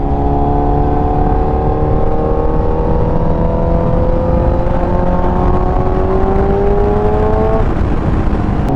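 A motorcycle engine with a sticking throttle drones loudly and steadily, its pitch slowly climbing over several seconds as the revs hang high before easing near the end, with road and wind noise underneath.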